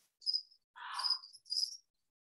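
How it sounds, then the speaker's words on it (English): Crickets chirp in short, clean bursts, three distinct trills separated by silence, close and fairly faint against an otherwise quiet background. "Well, those are crickets."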